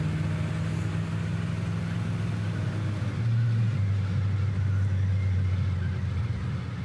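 A 1965 Plymouth Fury III engine drones steadily and climbs in pitch, dips briefly as a gear shifts, then pulls again with a deep, continuous rumble.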